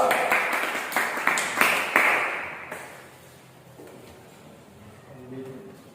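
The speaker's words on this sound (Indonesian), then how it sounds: "Kita beri tepuk tangan kelompok 2" Classroom applause for a student group's presentation rattles for about two and a half seconds, then fades into quieter room noise with faint voices.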